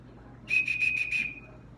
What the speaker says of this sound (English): So that's a buffalo bone whistle.